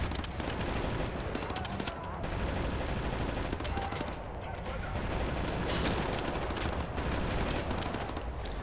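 Dense, continuous gunfire in Wolfenstein: The New Order, loud rapid shots and bursts layered over each other throughout with no pause.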